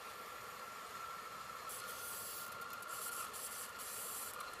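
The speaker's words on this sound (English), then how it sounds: "Carefully spray the entire content of the cleaner into the blower." Faint continuous hiss of evaporator cleaner being sprayed into the air conditioner blower of a Mitsubishi Lancer or Proton Inspira, a steady spray with a brighter edge in its second half.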